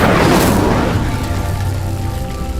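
Incendio fire spell from a wizarding video game igniting a pyre, a loud whooshing burst of flame that swells and then fades into a steady crackling roar.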